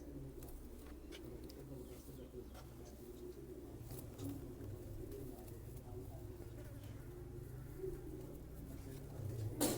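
Soft, repeated pigeon coos in a low murmur, with scattered rustling and faint background activity throughout.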